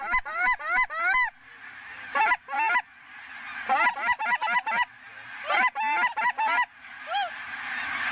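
Big flock of geese honking in a loud, dense chorus of overlapping calls, bursts rising and falling as the birds group up and come in to land near decoys.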